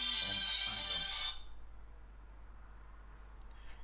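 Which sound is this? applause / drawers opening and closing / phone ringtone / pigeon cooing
phone ringtone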